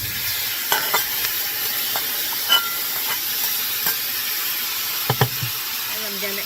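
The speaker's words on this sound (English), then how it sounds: "I'm going to add the mushrooms and onions as soon as that butter finishes melting." Mushrooms and onions sizzle in melted butter in a cast iron skillet, a steady close frying hiss with scattered crackles and a few sharper pops and stirring clinks throughout.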